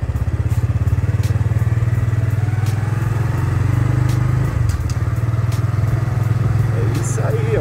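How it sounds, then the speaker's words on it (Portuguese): Honda Biz motorcycle ridden by a beginner without a clutch lever, its small engine idling and pulling away with a steady close putter and drone that rises slightly midway, continuous throughout. "A Kathleen já está aqui na moto. E agora ela vai dar início"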